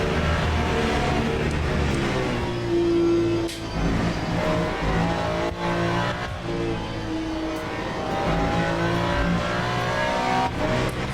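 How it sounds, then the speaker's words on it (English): A Ferrari in a racing video game revs hard and continuously, the engine note climbing and dropping through gear changes with faint tire squeal, loud and close with no voices. "It's a Ferrari!"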